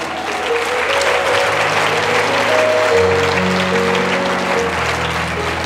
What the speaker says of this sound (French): Quelqu'un peut donner gloire à Dieu par de bonnes acclamations